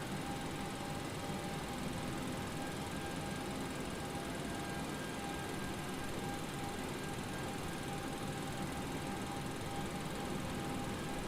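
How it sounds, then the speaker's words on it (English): Boeing 737 APU in X-Plane 11 spooling up, a steady faint whine and hum droning evenly for the whole stretch, with no voices. "I can hear that APU spooling out back"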